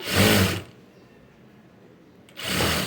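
A sewing machine stitches self piping onto a blouse in two short bursts of loud, close whirring with a pause of near quiet between them.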